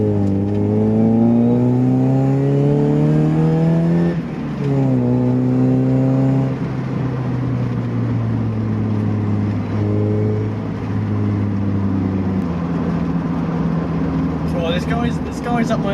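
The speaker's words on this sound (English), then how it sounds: "I wonder if that's just because my car sounds nice now." Mazda MX-5 engine revving and accelerating on the road, a steady loud drone whose pitch climbs through gear changes, with wind and road noise mixed in throughout.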